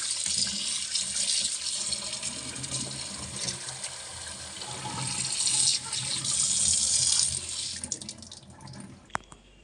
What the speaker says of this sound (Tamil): இப்போ நல்லா வாஷ் பண்ணிடுறேன்.